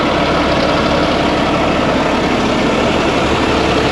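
The rotator tow truck called Hulk idles, a loud, steady, low diesel rumble held up close with no change in pace and no talking.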